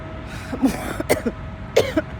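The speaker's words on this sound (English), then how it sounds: "I started the video off with coughing." A few sharp coughs and throat-clearing bursts, close to the microphone, spaced across a couple of seconds over a faint steady background hum.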